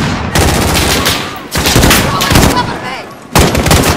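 Heavy gunfire in Call of Duty Modern Warfare on PS5, loud bursts of rapid shots in three separate volleys with brief pauses between them, no talk over it.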